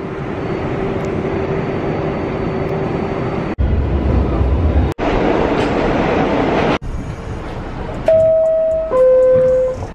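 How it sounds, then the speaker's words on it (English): Riding a train on its rails: a continuous loud rumble with abrupt cuts between scenes, then rising whining tones near the end. "So let's get on the train."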